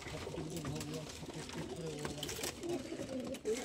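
Adult Kaldom Nafta Madrasi pigeons coo in a loft, low repeated murmuring calls layered together close by, with other bird chatter and faint voices in the background.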